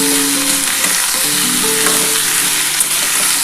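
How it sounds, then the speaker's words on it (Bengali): Tomatoes, green chillies, dried chillies and panch phoron frying together in hot oil, a loud, close, continuous sizzle with scraping stirs and a few sharp pops. "এবার এটা সমস্ত কিছু টমেটো, কাঁচা লঙ্কা, শুকনো লঙ্কা, 5 ফোড়ন সবার সাথে এটা ভালো করে মাখিয়ে ভাজতে হবে।"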